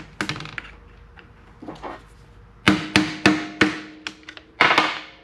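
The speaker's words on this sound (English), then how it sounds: "Pop those rivets over here." Rivets being popped loose from a vent window frame on a Chevrolet C30 dually truck during a manual window conversion: a series of sharp, close metallic cracks and knocks, irregularly spaced, with softer tapping and handling noises between them.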